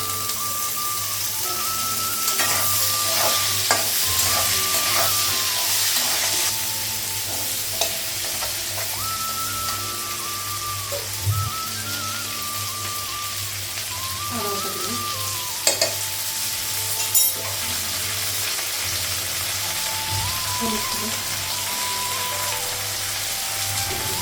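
Onion, potato and drumstick sizzle steadily in a frying pan, with a constant hiss broken by occasional scrapes and clinks of stirring, close and fairly loud throughout, no talk.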